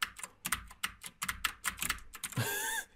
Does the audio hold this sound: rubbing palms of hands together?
no